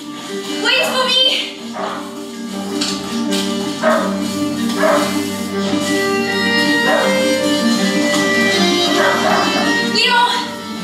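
Leo, a hunting dog in a video game, yips and whimpers in short repeated bursts over a steady tonal music bed, with voices talking throughout.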